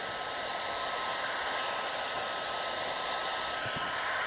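A heat gun blows hot air over car wrap vinyl, giving a steady, close, unbroken whoosh with a faint whine running through it, and no talking.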